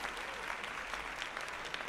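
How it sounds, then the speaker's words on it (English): Applause sound effect played during a live stream of Manor Lords gameplay: a brief, dense burst of clapping from a crowd, steady and fairly loud throughout, with no voices. "We gotta get a round of applause for that."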